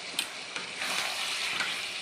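Chicken pieces sizzle and fry in oil with a ginger, garlic and tomato paste while a spoon stirs them, giving a steady hiss broken by light scraping taps against the pan, close and moderately quiet.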